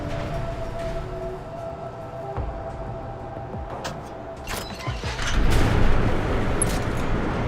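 EMP frag grenade blast and armor-piercing gunfire destroying a security turret in the Deus Ex: Mankind Divided video game: a dense, loud mix of booms, bursts and crackling impacts swelling toward the end, with no talk.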